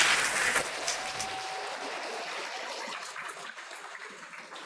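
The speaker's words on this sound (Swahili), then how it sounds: "Kila mtu ajipigie makofi." An audience applauding itself at the Kenya National Medical Lab Symposium, a burst of clapping that starts strong and thins into a quieter patter.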